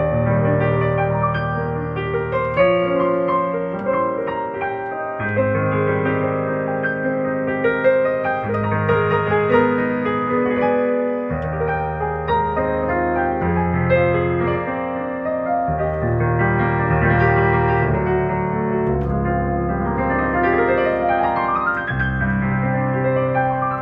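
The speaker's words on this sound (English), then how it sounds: "So they put the Borsendorfer Imperial Grand," A Bösendorfer Imperial Grand piano voice on a Yamaha CVP-805 digital piano plays rich, full chords and flowing melody lines for about twenty-four seconds. The playing is steady and resonant, with no talking.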